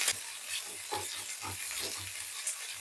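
Thinly sliced onions fry lightly in hot oil in a pan, a soft continuous sizzle broken by regular scraping strokes of a spatula roughly every half second, close and fairly quiet.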